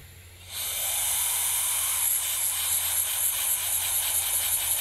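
A small LEGO double-action piston engine runs on low-pressure compressed air, starting with a sudden close hiss that holds steady and loud and carries a faint, rapid pulsing.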